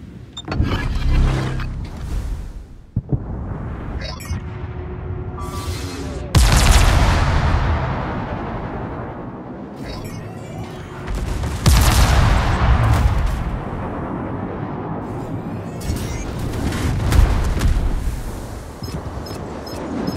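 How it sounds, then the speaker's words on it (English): Naval gunfire from a Des Moines cruiser in the World of Warships video game booms in repeated heavy salvos. Loud blasts land amid a continuous roar of mechanical battle noise, with no voices heard. "All stations, concentrate fire on the target."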